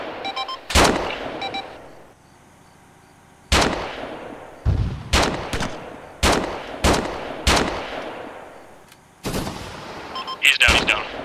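Loud, close gunfire with tracer rounds aimed at a bunker: single sharp shots and short bursts cracking out in uneven groups, each followed by a brief echoing tail, with quiet gaps between.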